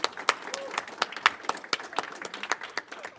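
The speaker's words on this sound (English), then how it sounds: "Let's clap for Chandy's birthday today." A small classroom group on a Windows security education session claps briefly for a member's birthday, a sparse scatter of distinct, uneven handclaps in the room with light voices under them.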